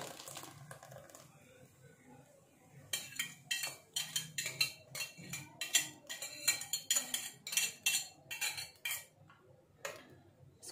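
A spoon clinks and scrapes steadily against a dish as tomato mixture is stirred into chicken for chatpatta chicken tikka, a rapid run of close, bright metallic taps after a quieter start.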